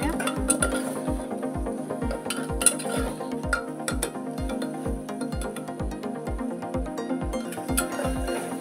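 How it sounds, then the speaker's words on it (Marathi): Ginger garlic paste roasting with softened tomato in a pan for South Indian rasam, with a steady run of rhythmic metal spoon strikes against the pan over a low sizzle, close and clear. "अद्रक लसूणची पेस्ट एक 2 ते 3 मिनिटं आपण भाजून घेऊया।"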